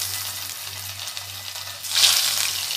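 Coated coconut bread pieces frying in hot oil give a steady, close sizzle with a low hum underneath, and the bubbling swells louder near the end.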